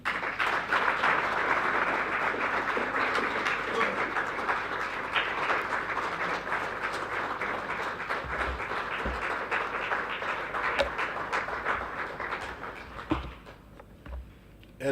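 A conference audience gives a minister a sustained round of applause, dense steady clapping from many hands that thins out toward the end.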